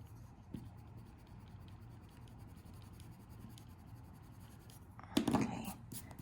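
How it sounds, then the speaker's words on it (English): An eraser rubs across a pastel drawing of a red cardinal, making a faint, steady scratchy scrubbing that ends in a brief, louder burst of rubbing strokes. "First of all, let's erase this."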